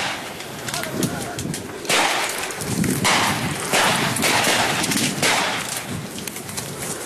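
Several sharp, loud gunshot cracks ring out at a street demonstration in Chile, each one punching above a noisy crowd and street din.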